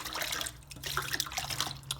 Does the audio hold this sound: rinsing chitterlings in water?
yes